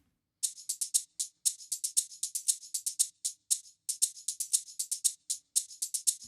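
A dry shaker loop, rapid bright rhythmic shakes in a steady repeating pattern with brief gaps, played alone at moderate volume.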